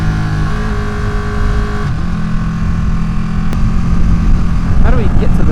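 A Ducati Panigale 959 sportbike engine revs under a rider's voice, a steady mid-range drone that climbs gradually louder, then a couple of quick throttle blips rise near the end.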